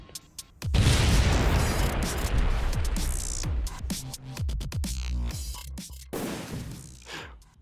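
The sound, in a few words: bomb explosion animation sound effect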